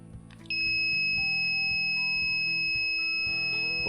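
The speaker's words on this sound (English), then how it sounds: "OK, buzzer is on." An electronic buzzer on an embedded-system prototype board switches on by serial command, jumping from a quiet background to a steady, loud, high-pitched continuous electronic tone that holds unbroken to the end.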